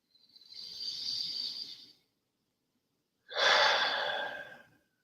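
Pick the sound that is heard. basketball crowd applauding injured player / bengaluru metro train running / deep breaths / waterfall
deep breaths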